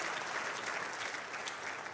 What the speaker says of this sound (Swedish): Ska vi ge alla 10-12-åringar en riktig applåd?